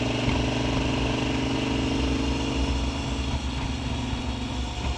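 A KTM 1290 Super Adventure motorcycle rides along roads in South Hawai'i, its engine droning steadily and loud with wind noise throughout, no voices.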